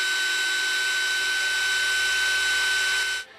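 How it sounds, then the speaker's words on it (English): A steady, high-pitched whine of a small drill bit drilling a hole runs continuously for about three seconds, then cuts off abruptly. No voices are present. "I'm just simply going to drill out the back side."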